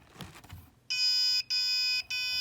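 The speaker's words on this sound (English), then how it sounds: "our buzzer's going off" A homemade anti-package-theft laser alarm sets off its buzzer: after a few soft handling knocks, a loud, steady high-pitched electronic tone sounds alone in three long bursts separated by brief gaps.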